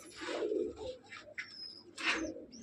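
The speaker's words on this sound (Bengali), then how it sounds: "এখানে রয়েছে আমার তো সব থেকে পছন্দের এই পায়রা দুটো" Pigeons in a loft at Park Circus, including green pigeons, coo and call in soft, repeated phrases close by, with brief chirpy notes rising between them and no talking.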